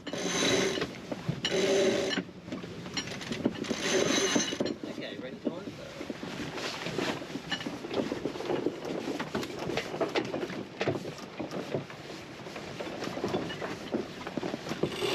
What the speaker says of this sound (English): First we have to furl the genoa and then tack with the mainsail only.